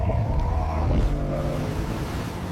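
A speedboat engine drones steadily and loudly throughout, a continuous low rumble with a slight rise in intensity near the middle.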